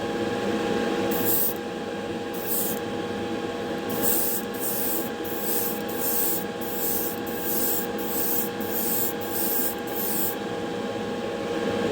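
Repeated spray bursts of Spectraflame paint as a second coat goes onto a Hot Wheels redline die-cast car, about ten short hissing blasts in an irregular rhythm, close and fairly loud over a steady background hum.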